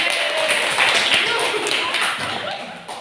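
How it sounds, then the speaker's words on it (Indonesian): Students in a school classroom guidance session clap together in a brisk, busy patter of hands, fairly close and loud, easing off toward the end with voices in the room. "Tepuk tangan dulu dong."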